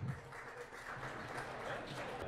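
An audience at a Baltimore club showcase applauds Joel with a quiet, even patter of clapping that holds steady throughout.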